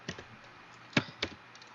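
Keys tapped on a computer keyboard while entering a command in a network switch command-line interface, a few separate clicks close by, with quiet gaps between them.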